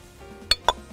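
Three short bright clinks of dishes as a plate is lifted in a kitchen while Chinese-style beef is being cooked, spaced apart over a quiet background hum.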